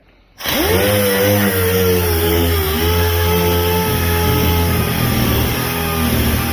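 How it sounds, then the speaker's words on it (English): A power sander sanding Bondo on a Cadillac being built into a NASCAR stock car starts up and runs loudly and steadily up close, a droning motor whine with grinding texture, with no talking. "he's got the sander there, and we're going to start sanding away"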